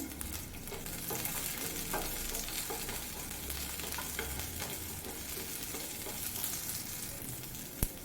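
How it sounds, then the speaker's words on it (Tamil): Chopped onions fry in a kadai, giving a steady, close sizzle and crackle throughout with faint stirring scrapes and a small clink near the end; no one talks. "அதே கடாயில் கட் பண்ணி வச்சுக்கிற வெங்காயத்தை ஃப்ரை பண்ணிக்கோங்க"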